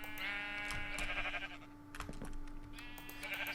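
Sheep bleat in a video game farm setting, a few drawn-out wavering calls with short gaps between them, faint and clear with a steady background tone under them.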